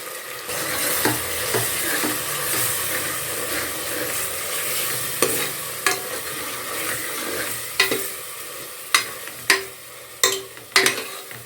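Ground paste of ginger, garlic, green chili, cardamom, clove and cashew sautéing in ghee for ghee rice: a steady close sizzle, then a series of sharp spatula knocks and scrapes against the pan toward the end.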